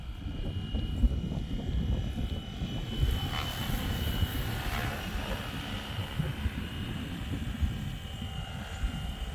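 A Flywing Bell 206 RC model helicopter hovers outdoors in the wind, a steady, moderately loud rotor and motor drone with a constant whine running throughout.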